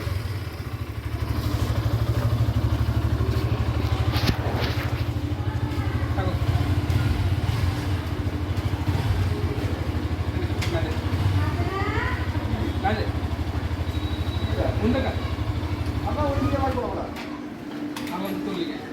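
An N160 motorcycle drones steadily while being ridden on a tour in Tangail, its low engine rumble continuous and close under a voice.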